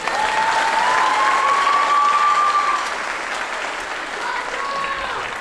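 An audience at a middle school spring band concert claps briefly for a student, a short burst of applause that softens midway, with a sustained tone running underneath.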